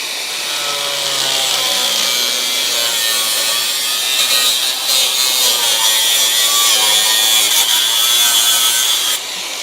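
A loud power tool grinds and cuts through a car's metal floor continuously, a harsh high-pitched rasp that holds steady for several seconds before cutting off.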